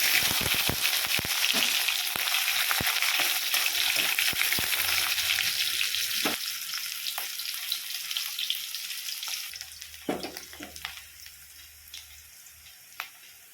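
Onions frying in a pan with panch phoron spices give a loud, dense hissing sizzle that gradually fades and quiets, dotted with clicks and stirring knocks, and a low hum joins toward the end.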